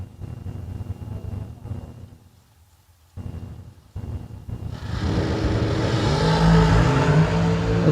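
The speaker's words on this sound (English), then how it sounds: "Keep your eye on that dragster in the right lane." A drag racing dragster at a FuelTech season opener launches down the strip, a quiet rumble and brief lull giving way to a sudden loud, sustained roaring engine blast that fills the rest of the run.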